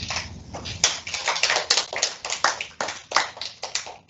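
Applause from a small classroom audience after a student presentation: a few pairs of hands clapping close by in a dense, uneven patter, no talking.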